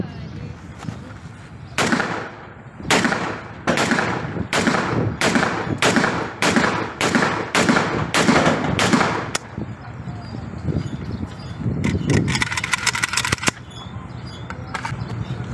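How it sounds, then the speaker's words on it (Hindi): A Pakistani-made 44 bore gun from Darra Adam Khel being test fired outdoors, a rapid series of about a dozen loud, sharp shots in steady succession, then crowd noise and voices afterward. "अभी इसकी वो टेस्ट फायर करते हैं।"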